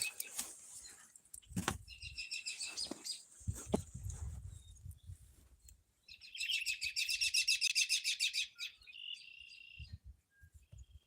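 Birds chirping outdoors, with bursts of rapid high trilling calls and some insect-like chirps, interrupted by a few loud thumps and rustles near the start; no talk.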